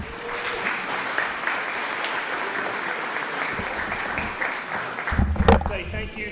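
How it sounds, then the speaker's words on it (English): An audience at a school sports event gives a round of applause, steady scattered clapping heard at moderate distance, with a voice and louder clapping near the end. "Let's give them a round of applause, please."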